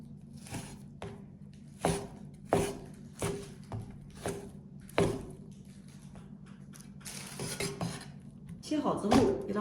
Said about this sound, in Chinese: 我们呢先给它改刀切成条，然后再给它改刀切成块儿。